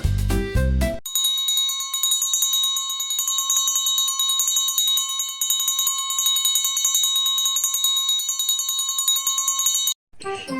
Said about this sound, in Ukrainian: Це звук легкий і дзвінкий, як голос пташки, це високий звук